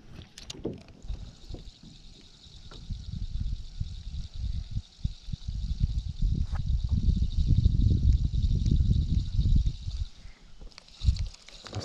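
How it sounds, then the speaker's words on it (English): Water splashing around a fishing kayak, a run of uneven close splashes and sloshes building in the middle, with rustling and knocks from the boat. "I'm starting to hear more splashes now."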